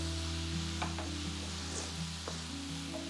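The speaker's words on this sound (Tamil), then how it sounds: "வெங்காயம், தக்காளி, இஞ்சி பூண்டு எல்லாமே நல்லா மிக்ஸ் ஆகிற மாதிரி கலக்கி விடுங்க." Onion, tomato, ginger and garlic being stirred in a hot pan, with a steady sizzle of frying and a few soft spoon scrapes against the pan over a constant low background hum.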